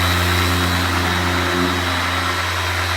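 A Makita PO6000C polisher runs steadily during paint correction on a car, a smooth continuous motor drone with a low hum, close and fairly loud, holding an even pitch throughout without pauses or talk.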